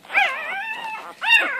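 A one-week-old female puppy whimpers in two high, wavering cries, close and clear, with a short pause between them in a quiet setting.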